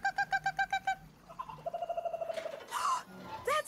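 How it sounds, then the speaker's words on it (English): A kookaburra call from the Thomas & Friends cartoon, a rapid series of rhythmic hooting notes followed by rising, laughing chatter and a couple of sharper squawks. "There's a kookaburra in distress,"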